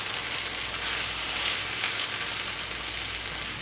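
Chicken pieces for a chicken and broccoli casserole sizzle in a pan just after being flipped, a steady, broad, hissing fry that stays fairly even and close throughout, with no talk.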